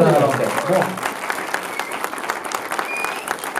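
Audience applause at a 2016 film festival awards ceremony, greeting the film Zen: broad, dense clapping from a full hall, loud at first and then steady, with a voice briefly audible at the start.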